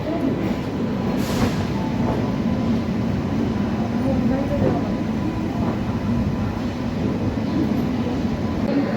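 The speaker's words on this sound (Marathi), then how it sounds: "आपली सिद्धेश्वर एक्सप्रेस पोहोचली आहे पुणे जंक्शनवर" The Siddheshwar Express arriving at Pune Junction after its run from Solapur: a steady, loud rumble of rolling railcars with faint rhythmic wheel clatter, heard from aboard the train, with background voices.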